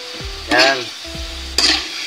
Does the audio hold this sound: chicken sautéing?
yes